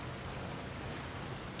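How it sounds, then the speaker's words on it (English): Unblocked water flows in God of War Ragnarok as a steady, dense rushing wash, even and unbroken throughout, with no voices over it. "Sounds like you got the water moving along"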